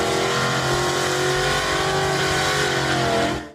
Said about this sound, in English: Number 9, 1975 Plymouth Duster 360.